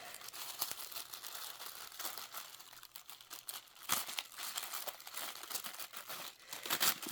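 Hands unwrap an item from a gift box wrapped in tissue paper, with continuous close crinkling and rustling and a few sharper tearing crackles, no voices.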